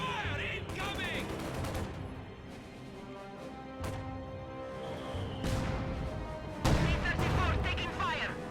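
Gunfire and artillery impacts strike a T-34 tank in the WWII strategy game Company of Heroes, with repeated booming hits and crashes over continuous battle noise. Game voices speak briefly.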